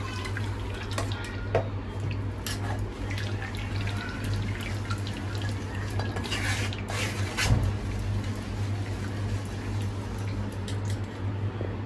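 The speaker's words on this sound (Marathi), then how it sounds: "हे मी असे ना चाळणीमध्ये गाळून घेते" Ground rice batter strained through a sieve in a home kitchen, heard as a steady wet trickle and patter of dripping liquid over a constant low hum, close by with no voices.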